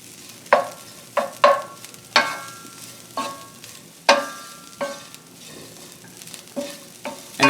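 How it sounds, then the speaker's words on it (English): Seitan frying in a hot pan, stirred in repeated scraping strokes about once a second over a steady low sizzle, close up with no talk. "I'm just going to stir that for about a minute."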